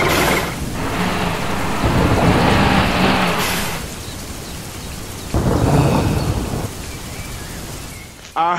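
Heavy rain pours down loudly, with thunder rumbling, and the downpour swells and fades in bursts.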